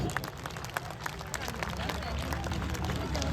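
Scattered clapping from a small audience at a Holi poetry gathering, quiet and loosely rhythmic, building slightly, with murmuring voices underneath.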